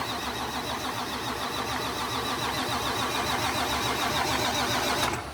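A PDI performance Detroit diesel engine starting for the first time and running as a loud, steady, rumbling drone throughout, close up and dense, with a clattering mechanical texture.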